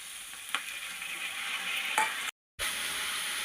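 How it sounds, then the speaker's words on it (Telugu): Onions and tomatoes frying in a pan, a steady hissing sizzle with a couple of faint stirring clicks, briefly cut to silence before the sizzle resumes. "ఉల్లిపాయలు టమాటీలు వేగుతున్నాయి కదండి"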